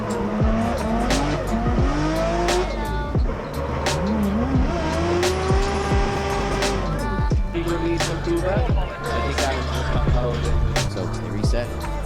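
Nissan S14 drift cars at an Irish Drift Series round, engines revving hard and tires squealing loudly through sustained skids, with rising and falling engine pitch close by.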